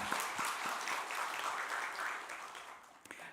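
Church congregation applauding during a Sunday worship service, a steady wash of many hands clapping at moderate distance, fading slightly toward the end with a few louder individual claps.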